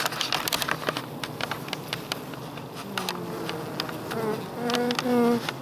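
Honeybees being removed from a ceiling in a farm building buzz close by, with several sharp passes and a louder, sustained drone building near the end, mixed with brief handling taps.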